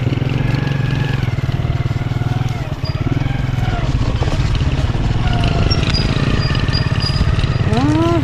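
A motorcycle engine runs close by with a steady, buzzing putter throughout, holding a mostly even pitch with a brief dip partway through and a slight rise near the end.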